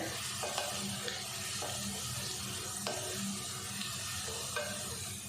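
Whole spices for pulao, cloves, black pepper, cinnamon, cumin and bay leaf, fry in oil with a soft continuous sizzle, broken by a few scrapes of a spoon stirring through the pan.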